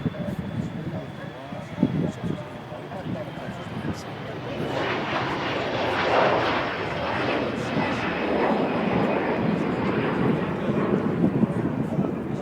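Jet engines of an Emirates Airbus A380 taxiing at Manchester Airport, a broad, loud roar that swells and stays steady partway through, heard outdoors from a distance with people talking over it.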